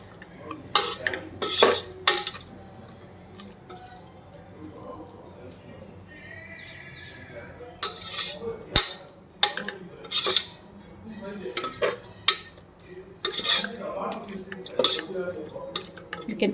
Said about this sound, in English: let's add the tomatoes. And saute for 5 minutes.